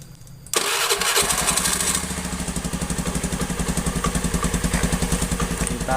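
An old Honda Beat motorcycle engine fires up after a brief quiet moment, then settles into a steady, close, loud idle with an even pulsing rhythm.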